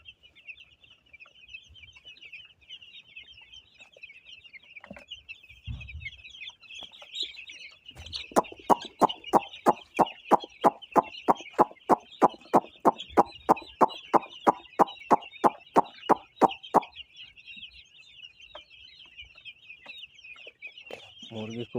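Broiler chickens on a poultry farm, four days after the brooding setup was removed, cluck and chirp constantly under a steady high cheeping, with a long run of rapid sharp rhythmic taps in the middle.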